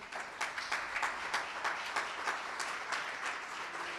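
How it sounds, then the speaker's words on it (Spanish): A church congregation at a Monday prayer service claps steadily for a few seconds, a soft, even patter of many hands heard at a moderate distance. "Denle un aplauso a Dios."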